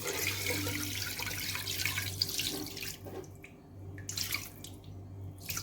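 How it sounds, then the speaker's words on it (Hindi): Water is poured into a pot of mutton being cooked for a salted meat dish, a steady splashing stream that runs on, pauses briefly and resumes, close and alone without talk. "ये इसमें मैं पानी डाल रही हूँ।"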